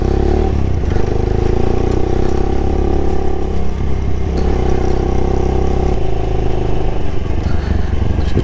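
A Daelim Daystar 125 motorcycle is ridden, its engine droning steadily and loudly close up, with small shifts in tone as it pulls along and no talking.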